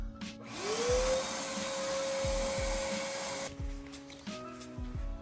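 A vacuum cleaner motor spins up and roars steadily as air is sucked through a DIY hose reel, with a rising whine settling into a constant drone, then the motor cuts out, leaving lighter clicks and handling noises.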